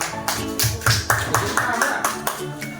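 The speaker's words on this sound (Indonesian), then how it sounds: "Tepuk tangan untuk kita semua" Classroom applause from a group of students, a quick run of rhythmic claps mixed with chatter and voices close by throughout.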